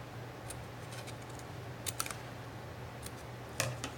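Scissors snipping paper rectangles for a castle collage, a few short crisp cuts in small clusters over a steady background hum, close and fairly quiet.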